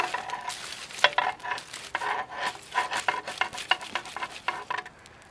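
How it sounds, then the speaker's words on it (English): Irregular scraping, clattering and crackling near at hand as a backyard fire-pit campfire's wood and embers are stoked and poked, with no voices. "Stoke the fire a little bit."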